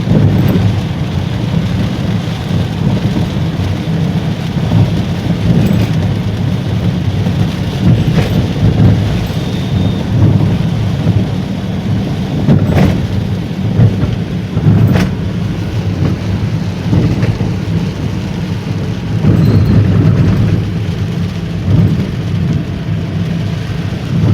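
Dense, constant rainfall roars close by, with occasional dull thunder rumbles and sharp drips breaking through.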